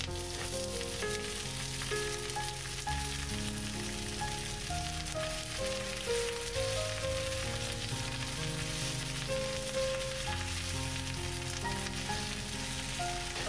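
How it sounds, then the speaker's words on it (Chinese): Chives stir-fry in oil in a wok, giving a continuous dense sizzle with steady crackling and no pauses, loud and close, and no one speaks. "接下来炒韭菜"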